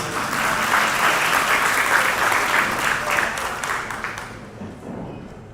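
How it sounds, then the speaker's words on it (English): Sustained applause from a wedding reception crowd, dense and steady clapping that fills the room, then gradually thins and fades toward the end. "Another round of applause for Brockton, please."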